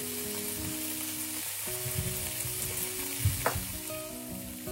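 Chickpeas fry with a continuous sizzle in a hot pan while being stirred, with a few scraping clinks of the utensil over the crackle, close and alone.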